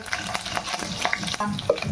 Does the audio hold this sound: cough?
no